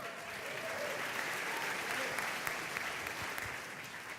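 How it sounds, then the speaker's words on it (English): A crowd at a political town hall in Greece, New York, gives steady, moderately loud applause, a continuous even wash of clapping heard at some distance, with a faint murmur of voices beneath. "polite applause"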